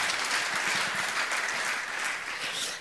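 An audience at a German panel discussion on energy demand and global risks gives steady, dense applause for Dr. Theissen, a full room clapping continuously and fading slightly at the end, with no voices over it.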